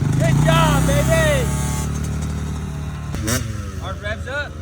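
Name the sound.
dirt bike engine revving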